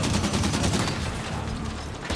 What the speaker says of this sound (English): Turrets on and fire them.